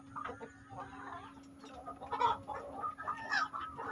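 Hens, mother breeding chickens, cluck repeatedly after a morning feeding in their coop, a busy overlapping chorus of short clucks and calls near and far over a faint steady hum.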